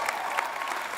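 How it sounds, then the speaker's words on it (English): An audience applauding for the Kalamazoo community, heard as a brief, even wash of clapping from a crowd, steady and fairly close, with no voice over it. "guys need to clap it up for yourselves."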